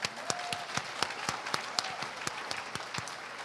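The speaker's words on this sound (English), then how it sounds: "let's give them a round of applause" A lecture audience at an evening event featuring Temple Grandin gives a round of applause, a steady patter of many hands, with sharp, louder individual claps recurring in a regular rhythm on top.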